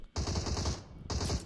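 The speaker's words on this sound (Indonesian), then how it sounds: "terdengar adanya beberapa tembakan yang terjadi yang sudah dikeluarkan" Gunfire in the PUBG video game: two rapid automatic bursts, loud and close, separated by a brief pause.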